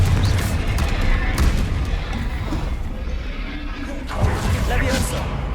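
Confringo fire-blast spells bursting in Hogwarts Legacy combat, heavy booming impacts rolling under constant spoken narration, with a sharp blast near the end standing out over the dense battle din.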